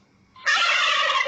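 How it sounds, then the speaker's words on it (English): A domestic turkey gobbles once, a loud, close, rapid warbling burst that starts abruptly and holds for about a second against a quiet background. "Turkey."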